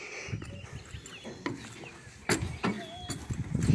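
Hooves shuffle and clop irregularly on the ground, with soft thumps and faint rustling, fairly close and quiet.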